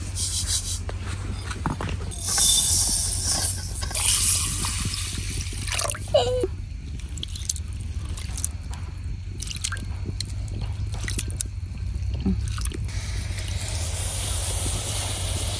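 Water poured into a wok on the stove, heard as soft splashing, drips and trickling with wet squishy handling sounds, fairly quiet and close, with no talking.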